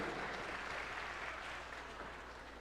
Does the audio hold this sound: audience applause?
yes